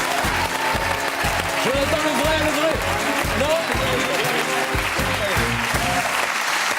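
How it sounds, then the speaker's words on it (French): Studio audience applauding steadily throughout a French TV show, with someone talking over the clapping. "J'aimerais qu'on applaudisse Jonathan Lambert"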